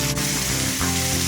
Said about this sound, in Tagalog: Igisa po natin ang ating langka.